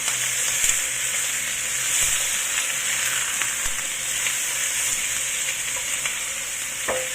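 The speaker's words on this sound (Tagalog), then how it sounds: "gawa ng ingredients natin na na-fry ng maigi" Pork adobo ingredients fry in a pan with a steady, close sizzle throughout, broken by a few soft stirring clicks and no voices.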